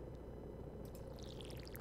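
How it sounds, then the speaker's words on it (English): A watering can pours water in the Stardew Valley video game, a short game effect of trickling, splashing droplets heard over a steady low background hum. "Oops, water his desk."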